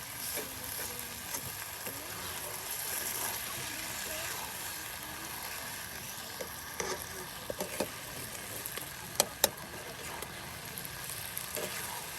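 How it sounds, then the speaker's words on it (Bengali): Chicken skin and potatoes fry in a pan for a spicy dish, with a low steady sizzle, occasional stirring scrapes and a few sharp clinks near the end. "চামড়িগুলো একদম ভাজা ভাজা হয়ে যায় একদম কষা কষা বোনা তরকারি রান্না করা হবে"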